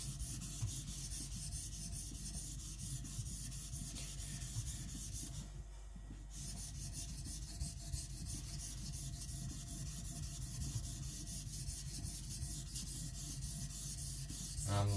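A kiridashi knife is rubbed back and forth on a professional series sharpening stone, a soft, continuous rasping scrape at close range with a brief pause partway through and no voices.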